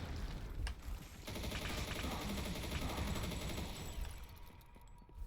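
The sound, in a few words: gunfire and bullet impacts in video game Disdain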